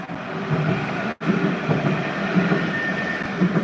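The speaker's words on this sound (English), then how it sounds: "off goes the 11:56 Nottingham Express Transit service for Hucknall" A Nottingham Express Transit tram pulling away from a stop toward Hucknall, a steady rumbling rail drone with a brief dropout, then continuing low wheel rumble and faint clatter.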